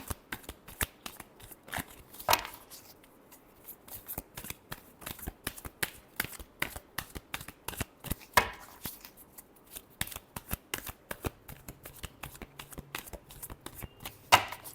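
Tarot cards are shuffled alone in a fast, steady patter of crisp riffling snaps, with a few louder flicks standing out and no talking.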